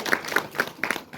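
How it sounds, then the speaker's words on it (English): A small audience claps during an interview, a short burst of scattered, uneven hand claps from several people, fairly close and moderately soft. "Yeah, clap for that."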